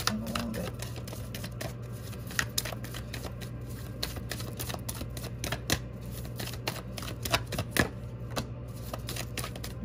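Tarot cards are shuffled in a steady run of soft riffling and slapping flicks over a low constant hum, with no talking.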